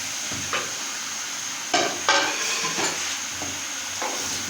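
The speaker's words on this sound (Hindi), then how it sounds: "कोफ्तों को बीच में मिक्स कर देना है आपने।" A spoon scrapes and stirs dal chana and dal mash koftas through a simmering yogurt curry in a pan, a few distinct scraping strokes over a steady low hiss of cooking.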